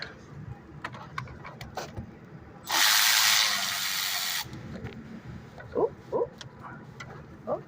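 A ratchet with a deep 8mm socket removes valve cover bolts. Faint, sparse clicks come first, then a dense, steady ratcheting burst lasting about two seconds, followed by scattered clicks and light handling noises.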